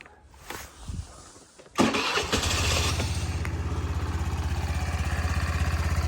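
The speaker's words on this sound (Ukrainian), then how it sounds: "З японським живим акумулятором заводиться, працює, тихенько працює двигунчик" A Honda Dio 110 fuel-injected scooter engine fires up after a couple of faint handling clicks, then settles into a steady, quiet idle with an even, rapid putter that continues to the end.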